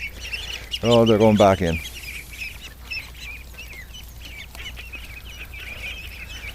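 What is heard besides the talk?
female ducks and ducklings calling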